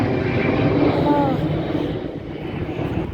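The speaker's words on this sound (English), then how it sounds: "It's such a big, nice plane." A big passenger airplane roaring past, with a loud, steady engine drone that slowly fades over a few seconds.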